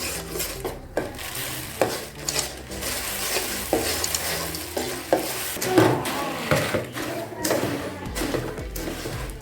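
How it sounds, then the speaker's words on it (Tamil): Puffed rice gets stirred into hot jaggery syrup off the heat, producing irregular scraping, rustling and knocks of a spoon against a pot, with light crackle throughout and occasional thuds. "இப்போ பொரியை போட்டு கிளறிக்கலாம்"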